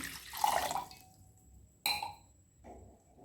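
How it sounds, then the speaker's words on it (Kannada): A glass of water splashes and pours into a metal pot on a gas stove for about a second, followed by a sharp clink and a short second splash, with no talking. "ಈಗ ಒಂದು ಗ್ಲಾಸ್ ನೀರು ಹಾಕಕತ್ತೀನಿ"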